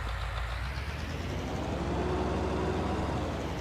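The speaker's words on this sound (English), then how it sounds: "Sounds like a truck." Truck engine in Farming Simulator 19 running steadily in a low, broad, even drone that rises slightly in pitch partway through, with no pauses or voices.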